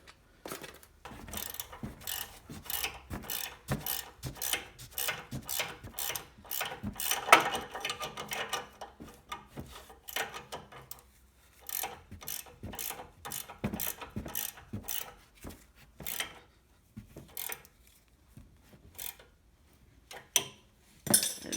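A ratchet wrench tightens a steering or suspension bolt on a Jeep JK, producing rapid sharp clicking bursts in repeated strokes with short pauses, close and fairly quiet, running for about twenty seconds.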